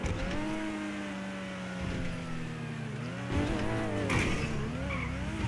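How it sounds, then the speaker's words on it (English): The Wagner supercar in GTA 5 Online roars with a high, rising engine whine and shifting revs, its tires squealing through skids, loud and continuous with no pauses. "we're in one of the fastest supercars on old gen right here, the Wagner. This thing is insane. It's got an awesome sound to it."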